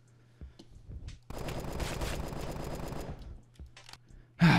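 Rapid automatic gunfire in the Roblox game Apocalypse Rising 2, a dense sustained burst lasting about two seconds between a few scattered single shots, fairly loud with no talk.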